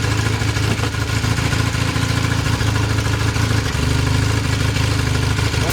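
A retro motorcycle engine idles steadily in freezing weather around minus five degrees, a loud, close, continuous low chugging rumble with no pauses.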